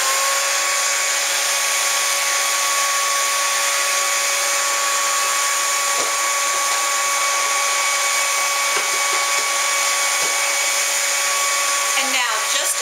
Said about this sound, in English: And then I'm going to use a hair dryer.